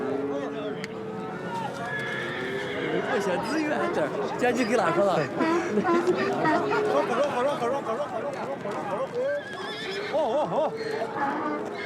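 Horses whinny and neigh repeatedly amid a busy outdoor crowd, with people chattering and some hoof clatter in the background.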